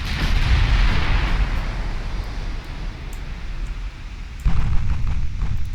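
Heavy warship main guns firing in the naval battle game Ultimate Admiral Dreadnoughts, a loud booming blast that rolls into a long rumbling tail, followed by a second sharp report near the end.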